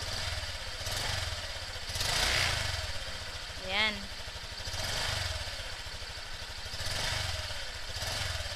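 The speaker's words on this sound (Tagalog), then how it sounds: "paandarin natin para marinig nyo yung kanyang engine sound" A Honda Click V3 scooter engine idles with a steady low putter throughout, heard up close while someone talks over it.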